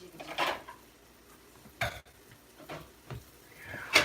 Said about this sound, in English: we've got to jiggle the pan